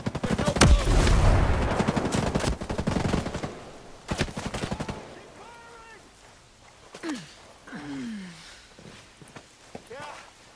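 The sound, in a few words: gunfire in the video game Ghost Recon Breakpoint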